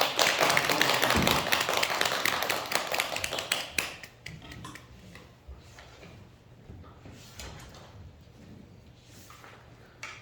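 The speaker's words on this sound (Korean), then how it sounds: "큰 박수 한번" A burst of dense, crowded applause from an audience at a Buddhist temple lecture, loud at first, then thinning after a few seconds into scattered, quieter claps.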